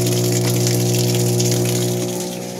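Water gushes steadily into a Panasonic washing machine over a loud motor hum with strong tonal drone, continuous and close.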